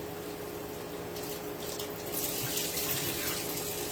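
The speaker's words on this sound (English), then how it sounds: "I'm just gonna fill the bowl up with water." Tap water pours steadily into a bowl for washing vegetables in a home kitchen, the rush growing a little louder and splashier partway through, with no voices.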